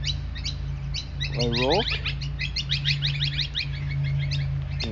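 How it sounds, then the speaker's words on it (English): Many birds chirp and twitter without pause across a Cornelian Bay cemetery, their quick overlapping calls coming from near and far over a steady low hum, while someone speaks briefly partway through. "You can hear the birds"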